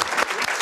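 A live audience claps at a podcast recording at the 31C3 congress, a brief dense burst of applause from a crowd, moderately loud and continuous.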